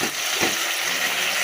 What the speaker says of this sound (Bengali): বেগুন ভাজা